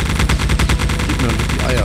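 Gunfire in the video game Geist: a rapid, loud string of shots fired in close succession, dense and continuous over a couple of seconds.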